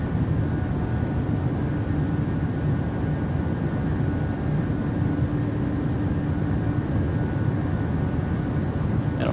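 A PMDG 737 airliner takes off from Singapore in Microsoft Flight Simulator 2020, its engines giving a loud, steady, broadband roar with low rumble that carries on unbroken.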